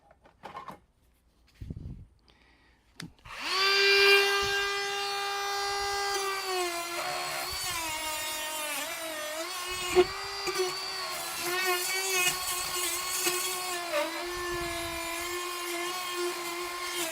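A Dremel rotary tool spins up after a few soft handling clicks, then holds a loud, high, steady whine near the mic with slight pitch wobbles as it works, no voices.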